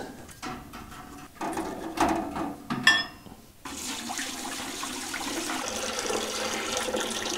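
Water pours and splashes into a container being filled to about nine litres, with a few clunks early on and then a steady, close rushing stream.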